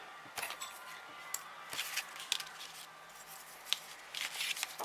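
Scissors snip through paper while making a simple mini album: a series of short, crisp cutting and crunching strokes in an irregular rhythm, close and fairly quiet, with no talking.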